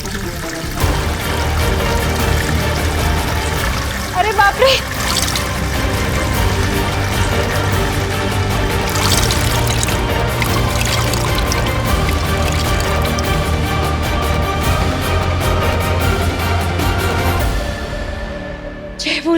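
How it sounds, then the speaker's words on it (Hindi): Water pours out steadily indoors in a home, a constant loud rushing with small splashes throughout, with a brief startled exclamation from a voice. "अरे बाप रे, इतना पानी कहाँ से आ रहा है?"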